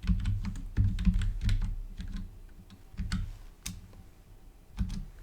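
Rapid clatter of typing on a computer keyboard while a tag name is entered, irregular bursts of close key clicks with short pauses between words, no voices over it.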